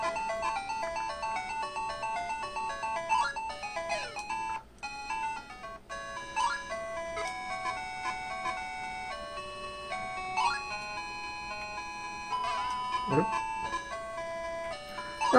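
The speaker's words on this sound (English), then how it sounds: "So this is kind of a racing game. Just play it for a second here just to show you." Chiptune-style racing game music and electronic beeps from a ColecoVision game running on an ODROID-GO handheld, a steady bright melodic pattern with occasional blips, played continuously with no talking.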